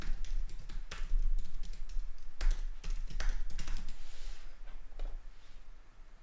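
Computer keyboard typing in quick, uneven bursts of close, crisp key taps, with a pause and a few scattered presses, while an Android application is set up inside an Ubuntu virtual machine.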